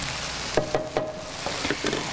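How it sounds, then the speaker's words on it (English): Caramelizing onions in a hot pan, stirred with a utensil: a continuous soft sizzle broken by a few light scraping knocks, close and moderately loud. "And let's give this a little stir too."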